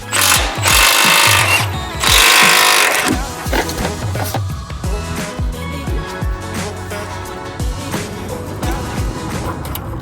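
A power tool, likely an impact wrench, loosening subframe bolts on an Audi S4, loud bursts of rattling hammering and buzzing, two long heavy runs followed by shorter stuttering pulses and clanks, close up in a garage.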